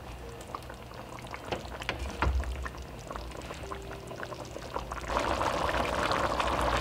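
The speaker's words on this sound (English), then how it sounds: "you're going to want to let that simmer again for approximately 5 minutes" Thai red curry simmers in a pot, a busy bubbling and popping that thickens and grows louder toward the end, close by with no talking.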